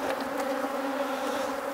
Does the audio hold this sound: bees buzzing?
yes